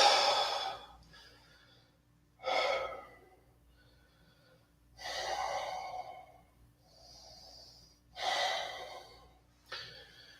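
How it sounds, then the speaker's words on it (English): Slow, deep yoga breaths fill the quiet, with about five drawn-out inhales and exhales in a steady rhythm, close and clearly audible with pauses between them. "Inhale. Then exhale."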